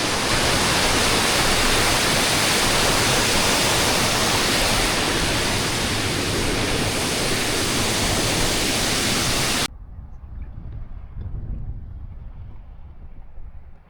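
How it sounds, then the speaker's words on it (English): A Scottish Highlands river rushes downhill as a loud, steady broadband roar that cuts off abruptly near the end, leaving a much quieter outdoor background. "This is the river coming from the highlands."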